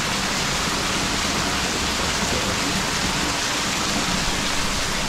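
Heavy monsoon rain pours steadily at a resort in Palghar, a dense, unbroken hiss of water close by with no clear thunderclap standing out.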